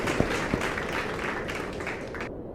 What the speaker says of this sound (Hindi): गांव के सभी किसान तालियां बजाने लगे।